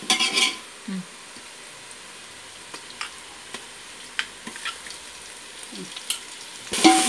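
Ginger garlic paste frying in a pan with sautéed onions while being cooked for ghee rice, giving a soft, steady sizzle with scattered stirring scrapes and a few utensil clinks.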